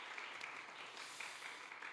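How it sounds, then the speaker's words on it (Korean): A church congregation at a Korean youth worship service applauding the elder, a dense, steady wash of clapping from many hands that continues for the whole moment without a break. "우리 장로님께 큰 박수 한번 부탁드립니다"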